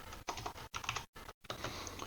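Keys on a computer keyboard clatter in quick, light bursts with short pauses between, close and quiet, as a name is typed into a calendar event.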